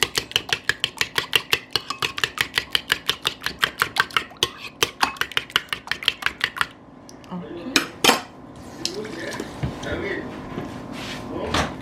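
A whisk beats egg yolks with milk in a bowl, rapid regular metallic clinks against the bowl's side, close and crisp, then slowing into a few scattered knocks and scrapes.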